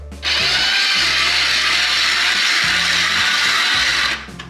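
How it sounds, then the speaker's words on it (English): A shaved ice machine grinds ice for snow cones, giving a loud, harsh, continuous whirring roar that starts abruptly and runs for about four seconds before cutting off. "But we're gonna do this the fun way with shaved ice machine"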